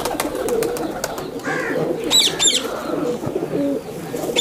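High flyer pigeons cooing in soft, repeated low calls, close by, with some chirps and faint background noise.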